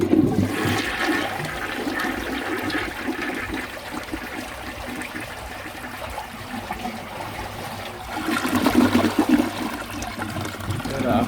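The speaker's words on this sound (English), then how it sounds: "I'm gonna double flush this" Rare 1957 Dresden Blue Universal Rundle toilet being flushed, a loud close rush of water that settles into trickling refill and then surges again near the end.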